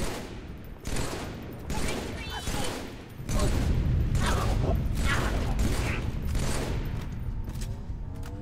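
Rapid gunfire during a Halo 3 campaign mission, loud bursts repeating in rhythmic pulses, then heavier continuous shooting with mechanical clatter, under some faint talking.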